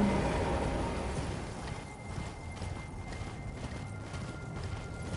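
Horse galloping in the video game Elden Ring: faint, rhythmic hoofbeats under a steady wash of game ambience, with no voices.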